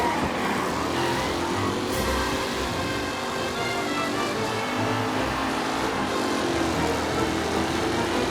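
Race cars roar steadily through a classic Formula-style race in the Mafia video game set in Lost Heaven, engines droning continuously and loud with no break across the stretch.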